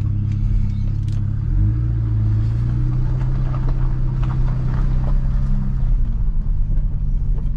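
A BMW E92 335i fitted with a DCT gearbox creeps backwards to park, its engine giving a close, steady low rumble with one small rise in revs partway through.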